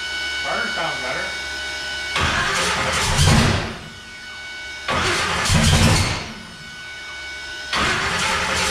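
A car engine cranks on its starter in three separate bursts with pauses between, each a loud, close grinding churn that never quite catches.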